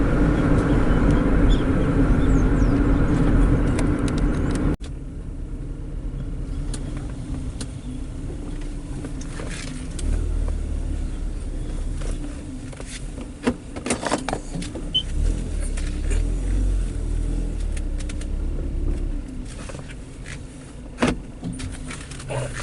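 A Mitsubishi Lancer with a stuck brake switch drives along, a low engine and road rumble with interior rattles and clicks throughout, loud at first and then steadier.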